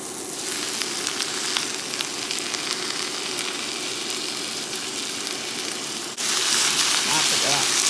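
One pound of ground turkey sizzles and fries in a skillet, a steady loud crackle throughout that swells brighter and more intense near the end, with no talking.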